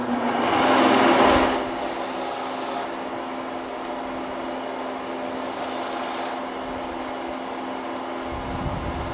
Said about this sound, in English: once I've got them in this shape, I need to cut them apart. So I just usually do that on the bandsaw.